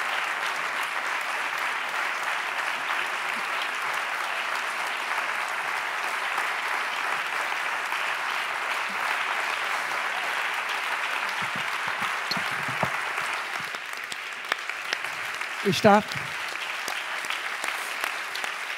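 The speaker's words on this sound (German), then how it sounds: "Ihr Beifall." An audience at a German science award ceremony for the Lorenz-Oken Medal applauds steadily, a broad even clapping that carries on, with a voice briefly speaking near the end.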